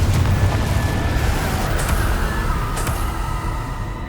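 Booming fire-blast explosions from the Confringo spell in the video game Hogwarts Legacy, a loud dense rumble sustained across the whole stretch with sharper bursts cracking through at intervals.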